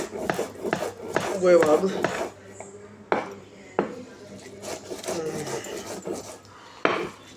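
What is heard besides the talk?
grinding salt on a stone grinding slab (silbatta)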